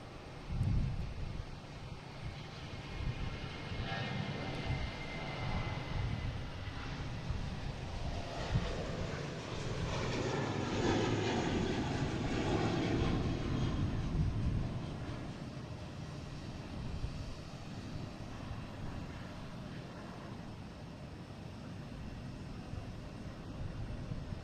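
Airbus A320 on flight 2421 to West Palm Beach at Boston Logan, a distant jet roar swelling toward the middle with sweeping whine tones, then fading, with light wind buffeting the microphone.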